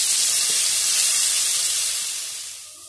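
Ginger garlic paste dropped into hot oil with cumin seeds, cooking for a potato bread fry snack, gives a loud, steady close sizzling hiss that eases slightly toward the end.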